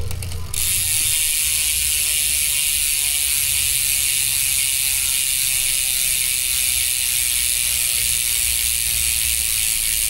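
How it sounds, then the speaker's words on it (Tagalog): The rear hub freewheel ratchet on a Twitter Leopard Pro XC mountain bike with Retrospec hubs clicks rapidly and evenly as the wheel spins. The bright buzzing tick runs close and loud for the whole stretch, with no talking. "so yan yung tunog ng hubs ng retrospect dito sa Twitter Leopard Pro"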